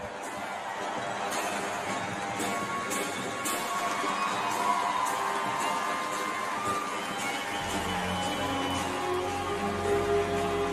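An outdoor crowd at a U.S. Army 250th anniversary event cheers and applauds for the band. A sustained wash of clapping and shouts runs throughout, with a voice over the noise.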